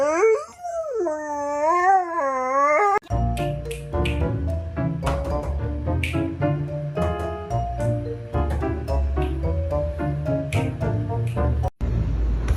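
A dog howls on command, starting with a long, wavering solo howl, then music with percussion takes over for the rest of the clip.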